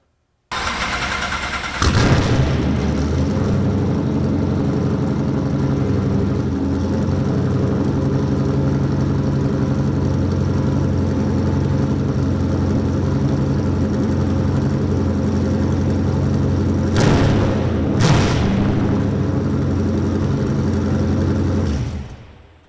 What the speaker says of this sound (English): let's see what this LS7 sounds like when we start it up